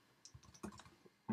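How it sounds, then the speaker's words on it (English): Quiet computer keyboard typing of Xcode animation code, a short burst of a few soft uneven key clicks close by, ending in a sharper louder tap. "I can now start typing the code for our animation"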